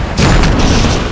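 A rocket blast in the Ninja Gaiden video game, a loud close booming explosion that bursts suddenly and rumbles on for about a second.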